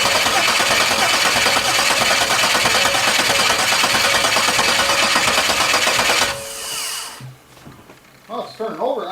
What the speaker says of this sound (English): Oh, it's turning over now.